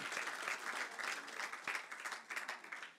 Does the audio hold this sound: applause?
yes